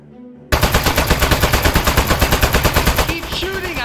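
Rapid automatic gunfire from the video game Aperture Desk Job rattles loudly in an even, fast burst that begins abruptly and runs continuously, with brief electronic chirps near the end.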